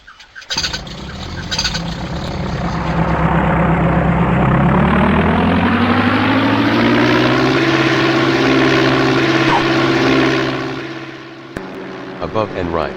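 A propeller aircraft engine drones loud and steady in a combat flight video game, its pitch rising and holding for several seconds before fading, with short bursts of other game sounds around it.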